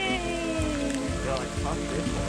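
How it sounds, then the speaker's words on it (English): Pouring rain falling steadily around a hiker on a trail up Cerro Alto, a constant near hiss of drops with a voice talking over it. "It's raining!"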